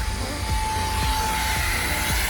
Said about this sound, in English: there's enough spinning things for it to clean the car